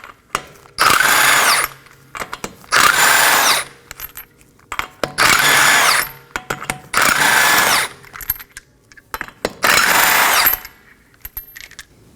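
A power tool, likely an impact wrench, removes the five 21mm lug nuts from the front wheel of a 2020s Toyota Corolla. It sounds as five loud, close bursts of whirring and rattling, each about a second long, separated by brief pauses and small clinks.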